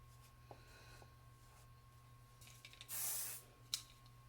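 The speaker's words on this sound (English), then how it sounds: "I have a little L'Oreal hairspray right here." L'Oreal hairspray aerosol sprayed onto hair, one short close hissing burst about half a second long after faint handling rustles, then a tiny click.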